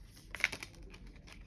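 Tarot cards shuffle in a few brief papery riffles and soft slides, close and quiet, with no talking.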